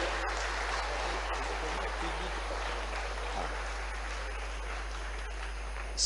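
Clapping from an audience at a state-level National Ayurveda Day event in Bhopal: a steady, moderately loud patter of many hands that continues evenly for several seconds over a constant low hum.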